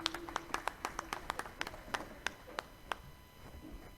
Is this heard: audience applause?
yes